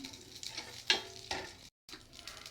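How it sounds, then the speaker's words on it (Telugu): Spices and curry leaves crackle and sizzle in hot oil with a few sharp spatters and a stirring scrape, briefly cut by a moment of silence. "ఆయిల్ వేసుకున్నాను. దీంట్లోనే కొన్ని మసాలా దినుసులు వేస్తున్నాను. కొంచెం కరివేపాకు వేస్తున్నాను."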